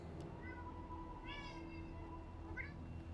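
A house cat meows several times nearby, short rising mews spaced a second or so apart over a low steady background hum, with no talking.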